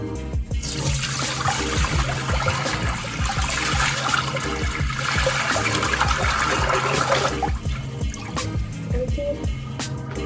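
Water runs steadily from a household sink tap, a continuous broadband rush with splashing and dripping that stays loud and even for about ten seconds, with no talk over it.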